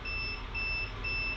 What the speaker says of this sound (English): That's the inverter alarm again.